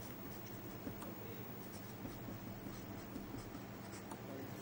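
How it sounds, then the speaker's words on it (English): Steady scratching of handwriting during a linear algebra lecture on eigenvalues and eigenvectors, continuous and fairly close, with faint broadband room noise and no voice. "we write just geometric multiplicity"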